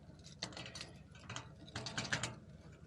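A key turning in the lock on a trailer hitch, giving a close series of small metallic clicks and ratcheting rattles in short bursts, fairly quiet, with no talking.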